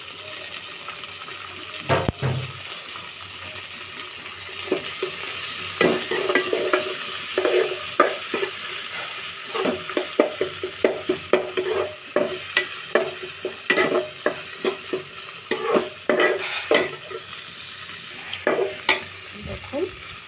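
Dried fish frying in a pan with ginger, a constant hiss of hot oil broken by irregular scraping and stirring knocks that grow busier and more frequent toward the end, close and loud with no talk.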